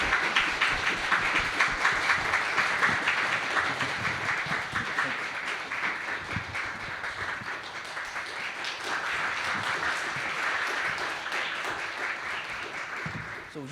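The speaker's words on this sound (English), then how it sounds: "let's welcome him with a warm round of applause" A warm round of applause from the audience at a film masterclass welcomes director Peter Chan into the venue, dense steady clapping sustained for the whole stretch with voices mixed in.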